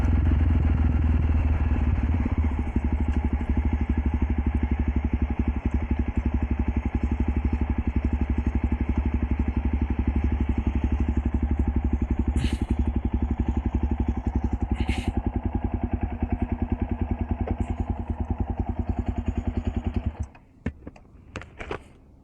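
A Jawa 42 Bobber motorcycle with its stock silencer runs continuously up close, its steady exhaust thrum and mechanical clatter lasting about twenty seconds before cutting off abruptly near the end.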